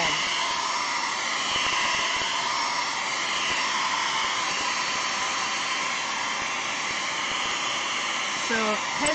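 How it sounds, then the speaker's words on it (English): A hair dryer runs steadily throughout, a loud continuous broadband whoosh with faint voice-like sounds near the end. "Hair dryer."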